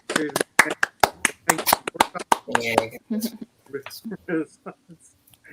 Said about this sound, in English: they're clapping for me